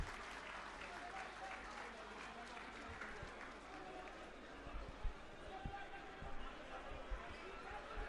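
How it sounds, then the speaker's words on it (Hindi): Crowd applause at a political rally of the AAP in Delhi, a distant, faint, continuous wash of clapping with occasional louder thumps and crowd noise throughout. "आतिशी जी के लिए जोरदार तालियां"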